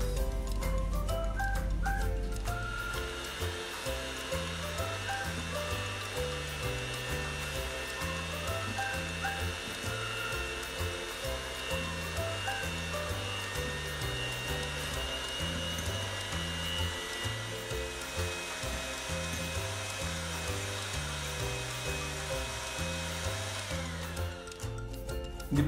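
Electric hand mixer running steadily, beating five medium eggs with sugar for a coconut cake, a continuous whirring motor hum with rhythmic pulsing from the beaters, close and alone without talk.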